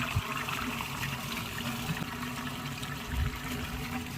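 Water drains steadily through the open valve of a Selzer self-cleaning water tank, a continuous rushing trickle at moderate distance with no voices.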